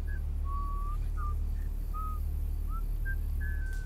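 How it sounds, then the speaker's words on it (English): A person whistles a short, high, wavering tune in several brief thin notes, heard faintly at a distance over a steady low rumble, with no voices. "Ooh, somebody's whistling."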